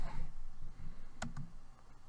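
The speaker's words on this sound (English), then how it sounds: "And now I can type a sample." A few sparse keystrokes on a computer keyboard while typing into Notepad, with two crisp clicks standing out over a low room hum.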